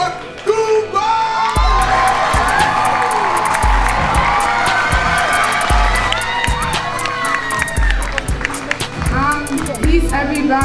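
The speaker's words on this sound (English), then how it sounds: "a big round of applause for Goomba!" An audience at a youth poetry slam semifinal cheers, whoops and shouts over steady clapping, loud and sustained throughout, with some rhythmic stomping or thumping underneath and voices calling out.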